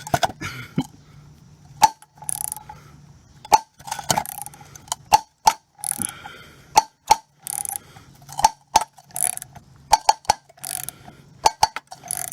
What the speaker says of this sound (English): Hopefully that's the sound of the pulley pulling off.